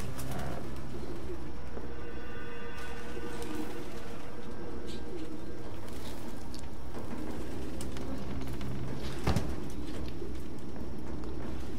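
Pigeons coo inside a cluttered apartment in Detroit: Become Human, with soft, repeated throaty calls layered over a steady ambient hum and occasional faint rustles and thumps, with no talking.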